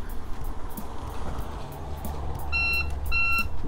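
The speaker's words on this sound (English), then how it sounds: "I'll just wait for the buzzer to sound to confirm that the power's on." Two short electronic beeps from a boat's engine panel power-on buzzer sound over a steady low engine rumble.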